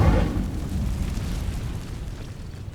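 An Incendio fire spell in Hogwarts Legacy, cast on dry vines, goes off as a sharp burst, then a low whooshing roar that slowly fades.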